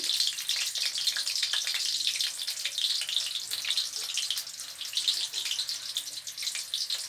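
Eggplant fries in a pan for lunch with a continuous bright, crackling sizzle of hot oil that stays close and steady, with no voices.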